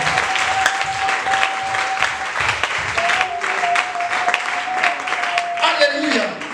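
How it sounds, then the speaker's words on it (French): A church congregation applauds and cheers for the Lord in a loud, steady wave of clapping that lasts throughout, with voices calling out over it. "acclamez le Seigneur"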